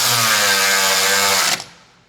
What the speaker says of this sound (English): Now I'm just going to hold it with the cordless on the bolt and then tighten it with my wrench